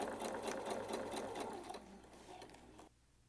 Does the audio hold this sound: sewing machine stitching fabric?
yes